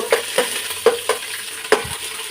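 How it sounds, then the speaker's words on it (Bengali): Garlic and ginger paste frying in a pan for an egg and potato vegetable biryani, with about five quick spatula scrapes and taps over a steady close sizzle. "এবার আমি রসুন বাটা দিয়ে দিচ্ছি এক চা চামচ আদা বাটা দিয়ে দিচ্ছি"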